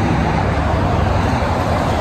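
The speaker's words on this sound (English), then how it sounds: "Sorry about the traffic noise." Steady road traffic roar from passing cars and buses on a street in an upscale vacation shopping area, a continuous broadband rumble filling the whole stretch with no clear gaps.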